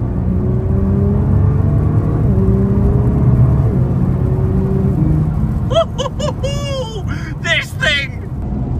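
A Nissan R35 GT-R engine hums and revs with rising and falling whines while the car downshifts, then excited voices break in over the engine toward the end.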